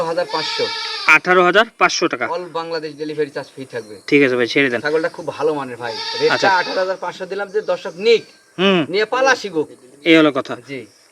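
Goats and young castrated bucks of Totapuri, Beetal and Haryana breeds bleat repeatedly on a farm, close and loud, with voices talking throughout among the calls.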